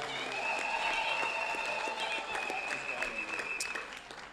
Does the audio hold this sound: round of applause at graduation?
yes